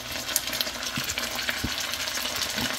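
Crunchy fried ingredients tipped into sizzling beef for Chinese beef chilli, a close, steady frying hiss with a few scraping clicks and light thuds as they land and get stirred.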